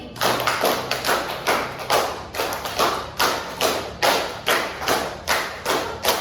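A classroom group claps in unison, a five-clap pattern repeated three times, fifteen crisp group hand claps in quick even bursts with short pauses between sets, close and loud without talk.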